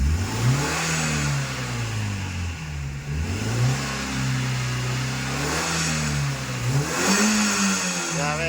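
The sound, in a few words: Suzuki APV engine revving with Valvetronik exhaust, standard mode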